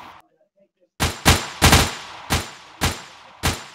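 Gunfire in the video game Project Confrontation: after a brief silence, six loud single shots ring out in an uneven rhythm, each with a sharp attack and short decaying tail, close and alone.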